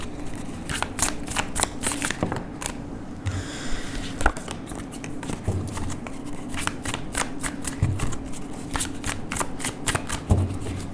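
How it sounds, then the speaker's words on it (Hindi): A deck of tarot cards shuffled by hand in steady riffling bursts, with crisp repeated flutters and soft slaps over about eleven seconds, close and clear with no talking. "कर लिए हैं शफल हमने।"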